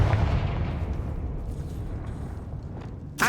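A Confringo fire spell blast from Hogwarts Legacy goes off as a deep, rumbling boom at the start and fades over a few seconds, then a sharp crack lands at the very end.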